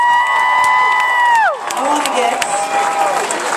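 Fans at a San Francisco Giants baseball fanfest cheer and whoop for a moment after a sustained musical tone ends, the crowd noise lively and fairly close.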